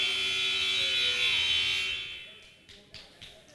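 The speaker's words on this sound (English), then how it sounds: "The buzzer is rung." A buzzer at a high school wrestling match gives a long, loud, steady electronic drone that fades out after about two seconds, followed by faint arena noise and thumps.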